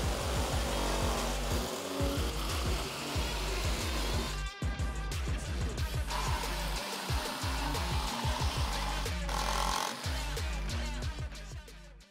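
A power tool cutting a polycarbonate window insert, a loud continuous buzzing rasp with steady judder that runs nearly throughout, briefly dipping a few times as the cut shifts.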